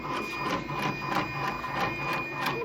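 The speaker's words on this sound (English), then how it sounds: "I'm going to move the sewing head to needle 15." A Redline embroidery machine shifts its sewing head to needle 15, making a steady mechanical whir with a faint repeating ticking rhythm and a thin high tone, close and moderately quiet, with no voices.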